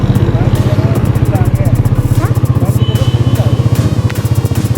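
A motorcycle is ridden along long narrow lanes on the way to school, its engine throbbing in a steady, close rapid pulse throughout with street clatter around, and a voice briefly speaks over it.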